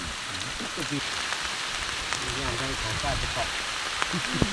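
Rain falls steadily in a rural Thai setting during new-season rain, a dense continuous patter on surfaces, with people talking intermittently over it.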